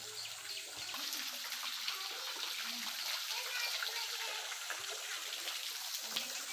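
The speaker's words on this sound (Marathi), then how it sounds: "इकडे कंटिन्यू असं पाणी येते" Water streams continuously from a cave at a Ramling temple in Yedashi, a steady soft rushing trickle heard close and alone without pause.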